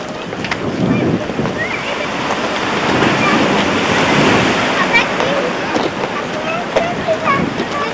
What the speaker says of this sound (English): can you see there in front where the waves are breaking?